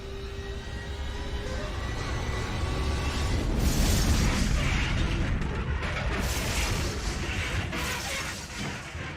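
A massive gas cloud explosion near a pipeline tearing through two passing trains, heard as a sustained roaring, crackling blast that swells midway and stays loud and dense throughout, with no voices.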